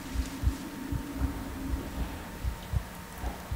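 Heartbeat in the video game Among the Sleep: a steady rhythmic series of soft, low double thumps, about two per second, over a faint hum, with no voices.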